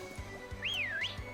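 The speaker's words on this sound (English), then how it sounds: "so we're free to just whistle at Pokemon." A rising-and-falling whistle call made by the player character in the video game Pokemon Sword and Shield, a single clear tone heard over quiet game ambience.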